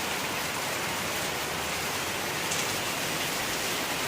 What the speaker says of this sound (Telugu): గేట్ బయట ఇది చూడండి ఎంత జోరుగా పడుతుందో